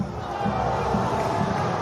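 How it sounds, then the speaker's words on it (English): The home crowd at a Saracens v Northampton rugby match gives off a dense, sustained roar of voices, loud and continuous, with shouts rising out of the mass. "Home crowd were begging for more"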